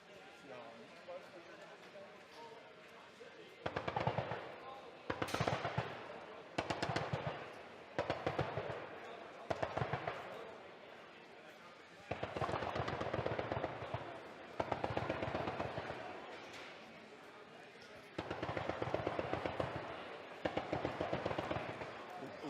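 12.7 mm incendiary ammunition at a live firing demonstration, heard as repeated bursts of rapid gunfire and impact blasts at a distance, each lasting about a second, with a person talking over them.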